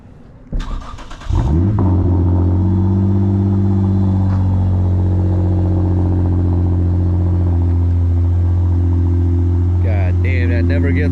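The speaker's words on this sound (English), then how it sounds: "let me get in the car, get you guys a little cold start" A tuned 2017 Lexus IS350 engine with full bolt-ons cranks and fires up on a cold start, settling into a loud, steady, deep idle rumble close by; a brief voice is heard near the end.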